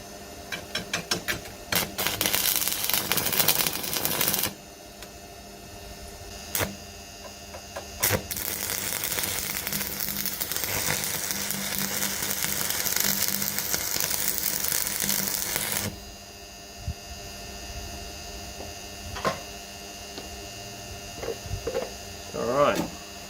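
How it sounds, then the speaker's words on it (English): A stick welding arc from a 6013 rod on a buzz box welder laying beads on a small practice coupon; loud, steady crackling hiss in two long bursts, with hum and quieter handling noises in between. "keep welding this little coupon up"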